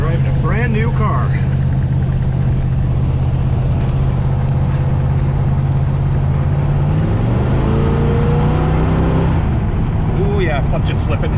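A Pontiac Trans Am with a slipping clutch accelerating on the road, its engine drone climbing steadily in pitch before a shift, loud and close inside the car, with brief talk at the start.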